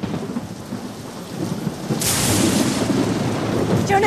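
A tropical thunderstorm in a video game: a low rumble of thunder, then heavy rain that sweeps in suddenly and keeps up as a loud, steady hiss.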